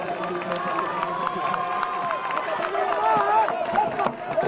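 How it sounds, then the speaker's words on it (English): Spectators at a World Para Athletics Grand Prix race in Nottwil cheering during a wheelchair race, a steady crowd roar with scattered claps under a commentator's voice. "Cheered on by this big crowd here"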